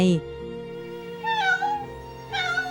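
An animated kitten gives two soft, drawn-out meows under a gentle narrating voice.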